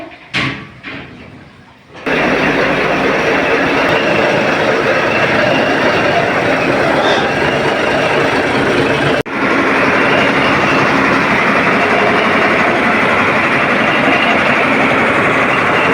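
A ship's main diesel engine roars loudly and steadily after a brief quieter start, its dense low rumble filling the engine room up close, with a momentary dip midway.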